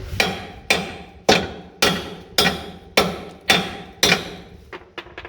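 Hammer pecking on a 1940 Chevy coupe transmission crossmember: eight sharp, loud metallic strikes at a steady rhythm, close by, then a few lighter quick taps at the end.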